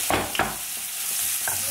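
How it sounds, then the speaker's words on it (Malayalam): Crushed ginger and garlic fry in hot coconut oil, a steady close sizzle broken by a few sharp stirring scrapes of a spoon in the pan, with no voices. "എണ്ണ ചൂടാകുമ്പോൾ ഇതിലേക്ക് നമുക്ക് ചതച്ച് വെച്ച ഒരു ഇഞ്ചി വെളുത്തുള്ളി ഉണ്ടല്ലോ അതിട്ട് കൊടുക്കാം."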